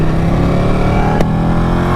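A Ducati Panigale motorcycle rides along gravelly backroads, its engine holding a steady loud drone up close with a brief sharp knock partway through.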